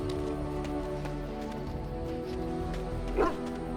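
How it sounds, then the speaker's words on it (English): A dog barks in the Dragon Age: Origins video game, a few short yaps over steady game music and ambience at moderate level, with no one talking. "Hi, dog."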